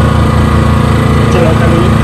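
A Hyundai HDG 2880 petrol generator engine drones loud and steady at close range, a continuous buzzing hum with no break.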